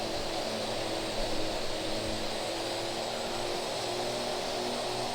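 Steady droning roar of the Aerosoft Bronco's turboprop engines in the FSX flight simulator, a constant broad whine and hum with no breaks, loud and unchanging.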